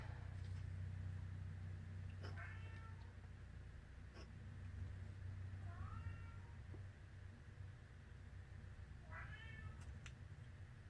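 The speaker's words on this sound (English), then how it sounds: "now he's meowing at the back door" A cat meows three times at a back door, spaced several seconds apart, over a steady low hum of background noise.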